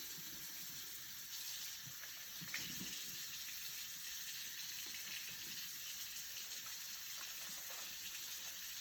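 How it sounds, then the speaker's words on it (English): A tap runs steadily while hands are washed beneath it, giving a continuous soft gush of water that splashes faintly throughout. "I'm just gonna show you a demonstration on how to wash your hands"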